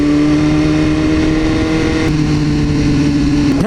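A Lamborghini in a video game revs its engine in a loud, sustained drone that holds a steady pitch and then climbs sharply at the very end, with no talking over it.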